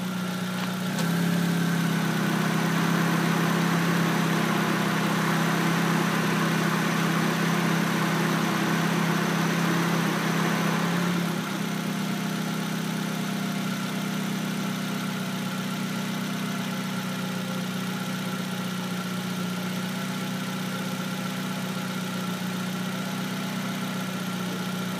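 A 2003 Nissan Sentra 1.8 engine idles close by for a long stretch, producing a constant low hum that eases slightly in loudness partway through, with no talking.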